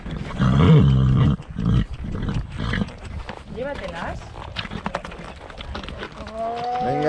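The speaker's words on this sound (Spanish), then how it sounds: "Chicas, mira el burro." Donkey braying in the open during a horseback trail ride, loud and close with harsh rising and falling calls, mixed with people talking and other animal noise.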